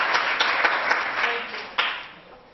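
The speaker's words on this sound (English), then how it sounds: "Round of applause." Audience at a medical lecture applauds, a moderate burst of many hands clapping that fades over a couple of seconds.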